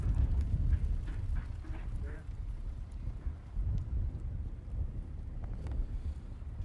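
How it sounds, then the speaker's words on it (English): Wind gusting at a chilly outdoor morning event, a steady low rumble buffeting the microphone throughout, with faint background sounds over it. "I do realize this morning it's a little chilly, a little windy"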